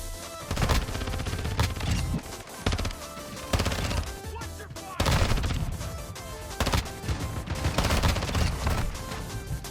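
Shotgun fire from a Call of Duty video game comes in a series of loud, dense blasts. The shots arrive in bursts and sit over a thick layer of game sound and music.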